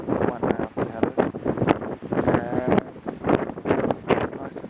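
Gusty wind buffets the microphone beside a sunny bay in New Zealand, with broadband rushing bursts rising and falling throughout, loud and close.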